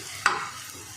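Fried golden onions are pressed against the pan to squeeze out oil while cooking oats pulao, giving a single short scraping stir over a soft, steady sizzle.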